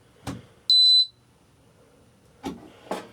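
An SPT portable air conditioner's control board, taken out of the unit, gives one short, sharp, high electronic beep up close. Soft handling clicks and knocks come before and after it.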